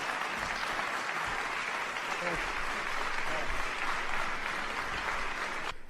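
Dense, thunderous audience applause follows a presidential speech, a sustained broadband roar of clapping from a large crowd that holds steady for several seconds.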